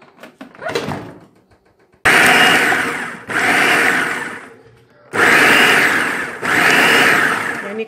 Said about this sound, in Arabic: دابا انا غادي نطحن هذا الشيء كامل